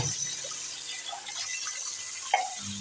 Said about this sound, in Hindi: चाय का कप ख़त्म हो चुका है, चाय हम लोग अब कप धो लेंगे।